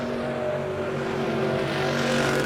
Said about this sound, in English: sounds like he might have an engine issue or something of that sort.